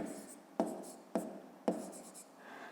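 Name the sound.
writing while solving a math exercise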